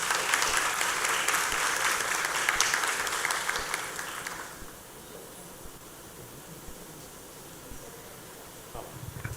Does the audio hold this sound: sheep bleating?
no